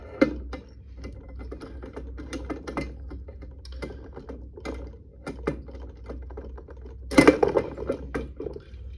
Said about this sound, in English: I'm going to put a padlock on before anyone else does